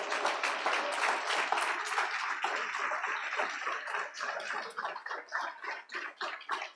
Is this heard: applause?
yes